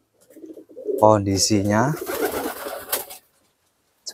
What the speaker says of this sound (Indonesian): Saya perlihatkan kondisi merpati yang ada di kandang